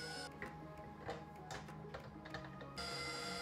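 A KitchenAid pasta roller attachment set to 5 rolls ramen dough, giving a steady mechanical whirring hum with faint ticking and clicking, quiet and close with no talk.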